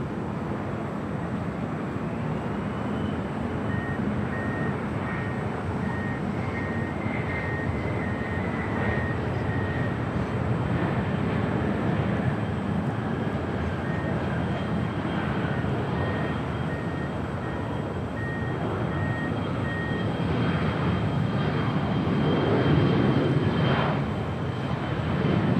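A SkyWest airliner taking off from runway 25 right at Los Angeles International Airport, a broad, steady distant jet roar that swells louder toward the end. Faint intermittent beeping tones sit underneath.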